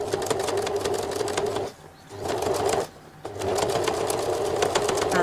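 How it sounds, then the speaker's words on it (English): A sewing machine topstitches close to the edge of a patch pocket on a classic coat, its fast needle rhythm running steadily with two brief pauses before resuming, close and clear. "Try to top stitch very close to the edge."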